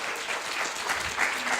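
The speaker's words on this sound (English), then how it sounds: "Please give a warm round of applause to our speakers today." A conference audience at a panel discussion on the future of work gives steady, full applause for the panel speakers throughout.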